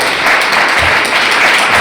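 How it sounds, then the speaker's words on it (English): A concert audience gives a round of applause for the composers, a short burst of loud, busy clapping from many hands. "can we have a round of applause to our composers"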